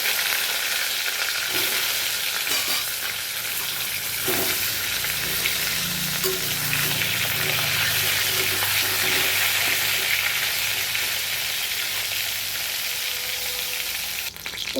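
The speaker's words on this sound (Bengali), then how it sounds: "কড়াইতে তেল দিয়ে দিচ্ছি। গরম হয়ে গেছে। এবারে এই যে পটলগুলো আমি ভেজে নেব।" Pointed gourd (potol) pieces fry in hot oil in a wok, giving a steady, loud sizzle that runs the whole time, with occasional stirring scrapes and no talking.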